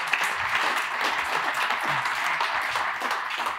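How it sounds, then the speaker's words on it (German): Steady audience applause at an award ceremony for a private banking test, a dense wash of many hands clapping at even loudness, with no voices over it. "Und wieder ein Applaus wert."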